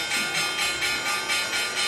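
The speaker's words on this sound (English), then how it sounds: "There is the bell." A stock market opening bell rings loudly in repeated, evenly spaced metallic clangs with a sustained ringing tone between strikes.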